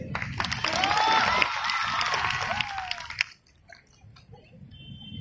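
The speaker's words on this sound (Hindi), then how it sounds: "तो ताली की बजा दी।" Live audience at a stand-up comedy show in Bihar claps in a dense burst for about three seconds, then the applause cuts off abruptly into quieter room sound.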